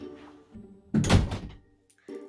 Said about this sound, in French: faut que je ferme la fenêtre tellement il y a du bruit dehors